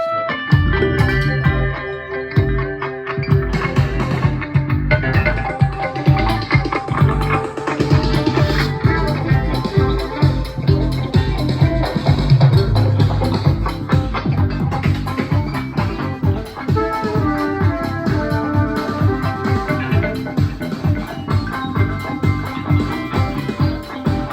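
A busy, loud electronic band mix with driving drums, synth layers and a steady groove, dense and continuous throughout.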